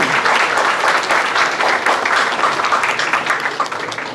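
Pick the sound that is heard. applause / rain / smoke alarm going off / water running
applause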